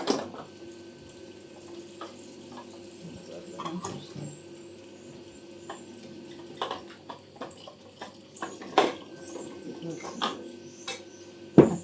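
Boiling water pours over tomatoes being prepared for a winter tomato mash, a close, steady watery splashing broken by a few sharp knocks and clatters.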